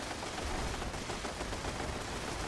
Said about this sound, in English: Artillery commencing.